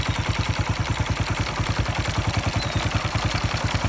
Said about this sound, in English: very nice idle speed.